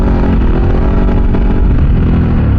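Ducati Desert X motorcycle engine ridden off road, a loud, steady close-up drone of exhaust and engine with wind rush, held without a break and with no talk.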